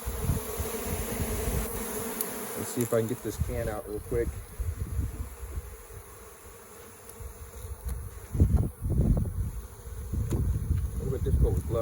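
A dense swarm of honey bees in a shipping package buzzes continuously in the background while a person speaks and handles something nearby with rustling and clunking.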